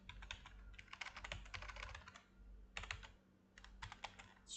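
Typing on a computer keyboard during a front-end web development lesson, with rapid bursts of close keystrokes separated by short pauses and no talking.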